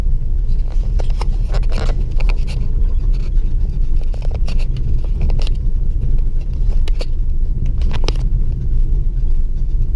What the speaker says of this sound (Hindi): गाड़ी किस तरह से चल रही है।